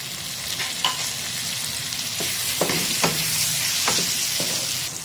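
Fried spices sizzle loudly in a pan as chopped tomato is added and stirred in, with a steady close frying hiss broken by several sharp scraping strokes of a spoon.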